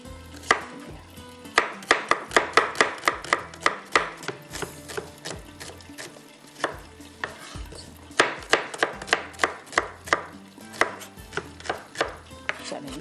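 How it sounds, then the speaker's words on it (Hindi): Tomatoes and onions being chopped with a knife on a board, close and crisp, in quick rhythmic bursts of strokes separated by short pauses. "इसके अंदर मुझे चाहिए टमाटर भी चाहिए, प्याज भी चाहिए, ये भी हम कटिंग कर लेते हैं"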